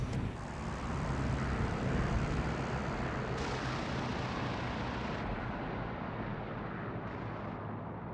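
A WWII German bomber's bombs exploding on an airfield in a video game, heard as a sustained, dense rumble of blasts and roaring noise that swells and holds at steady loudness for several seconds, with no talk.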